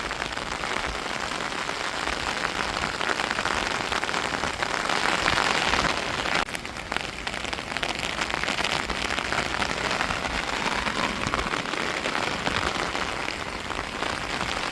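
Heavy rain driven by strong wind pours down at night in a Tamil village. A loud, dense, unbroken hiss of rainfall swells slightly midway, with no voices.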